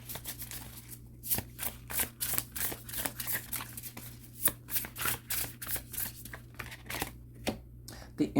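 A deck of tarot cards is shuffled by hand in a steady rhythm of short, crisp riffling and slapping bursts, roughly one or two per second, close and fairly loud.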